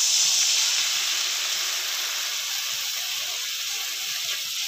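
Water poured into a hot pan of turmeric and dried chilli powder bursts into a loud, steady steam hiss and sizzle that fades only slightly over the few seconds, with no voices.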